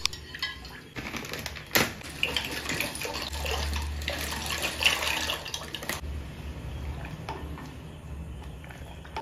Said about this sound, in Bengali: তো ফার্স্টেই প্যানটা গরম করে আমি জল বসিয়ে দেবো পাস্তাটা সেদ্ধ হওয়ার জন্য।